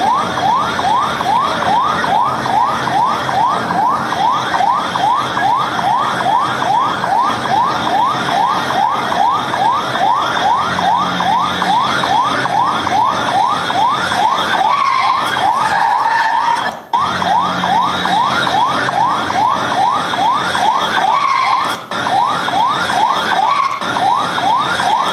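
A wailing siren cycles rapidly and continuously, loud and close, with a steady rising-falling pattern that briefly shifts tone midway before resuming.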